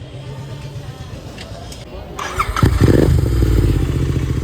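A motorcycle engine idles with a low rumble, then revs up louder and keeps running steadily close by, with faint voices early on.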